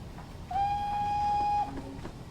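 In Train Simulator 2019, a steady whistle tone from a J21 steam locomotive holds for about a second over a low rumble of rolling rail wheels and carriages.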